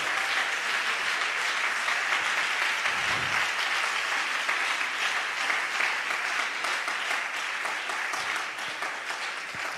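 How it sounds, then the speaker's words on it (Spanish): Applause from a church congregation during a Spanish-language sermon, a dense steady clapping that fills the whole stretch at even loudness, with a brief low thump near the middle. "Dele un aplauso al Señor en esta hora."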